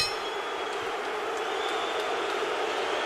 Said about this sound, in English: This crowd is boisterous.